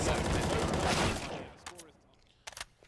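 Counter-Strike: Global Offensive gunfire in a pro match: a loud, rapid burst of automatic shots for about a second, then a few quieter scattered shots after a pause.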